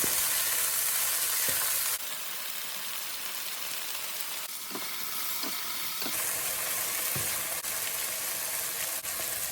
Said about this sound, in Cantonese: 加入咗冰糖就將佢翻炒2下